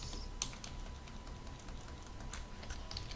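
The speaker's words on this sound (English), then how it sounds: "I'm going to type Control P" A few soft, scattered keystrokes on a computer keyboard as a Control-P key binding is typed in the Emacs editor, faint over a steady low background hum.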